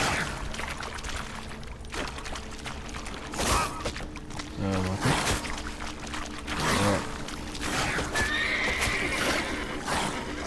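Roach, a horse in The Witcher 3: Wild Hunt, neighs and whinnies in agitation, with clip-clopping hooves and splashing, loud and near over game ambience, with brief talk underneath.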